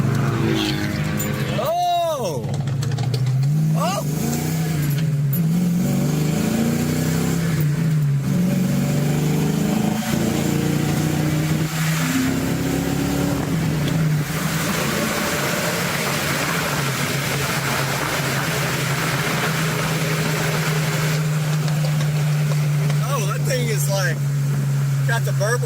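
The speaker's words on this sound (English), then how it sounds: "What is it, a Beamer? Yeah, BMW with the burble tune." BMW with a burble exhaust tune revving at a car gathering, engine rises and falls with popping backfires, heard amid constant crowd talk and other idling cars.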